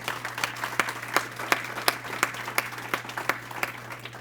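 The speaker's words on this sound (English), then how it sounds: "So a round of applause for them." Applause from an audience at a corporate launch event, a modest crowd clapping steadily with individual claps standing out in a loose rhythm over a constant low hum, no voices.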